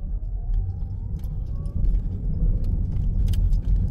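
A Toyota Corolla 1.8 Hybrid climbs uphill under throttle, giving a low, steady engine rumble with road noise inside the cabin and a few light rattles.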